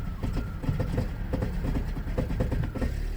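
A car engine stumbling and hesitating under acceleration from a misfire, with uneven, choppy pulses and rough bursts close by throughout, no voices over it.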